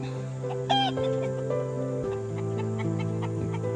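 Meat chickens cluck and murmur close by in a breeding pen, a steady chorus of low tonal clucks with one sharp squawk early on and scattered calls throughout.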